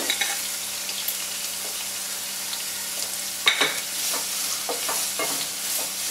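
Onions sautéing in a pan for dum aloo, a steady close sizzle broken by spoon scrapes and clacks as they are stirred, with a few sharper knocks midway.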